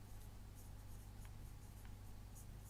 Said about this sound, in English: SOHCAHTOA, so I might just write that up here somewhere.